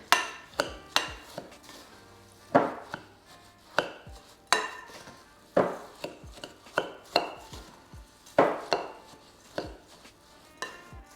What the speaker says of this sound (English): And we're just going to stir that around.